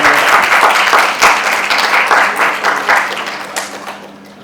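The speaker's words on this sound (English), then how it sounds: "A big round of applause." Loud, close audience applause at a comedy show, dense clapping filling the room at full strength before gradually thinning and fading out toward the end, with no speech over it.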